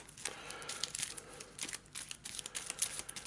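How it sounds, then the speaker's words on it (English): Cards from an Arkham Horror LCG deck being shuffled by hand, a steady run of crisp riffling and flicking clicks, close and alone with no talk. "A lot of reshuffling this deck in this scenario"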